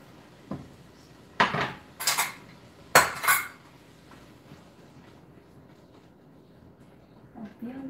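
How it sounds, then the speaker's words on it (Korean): Chopped kimchi is stir-fried in a wide, deep wok for a mussel stew. Three or four sharp metallic scrapes and clanks of a utensil against the pan stand out against a quiet background. "이렇게 김치도 넣어서 좀 볶아주세요"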